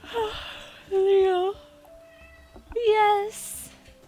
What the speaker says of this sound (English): I must pet the cat.